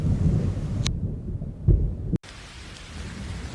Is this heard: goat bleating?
no